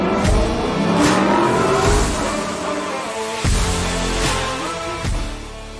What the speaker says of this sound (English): That V8 rumble, especially in the hard acceleration, is amazing.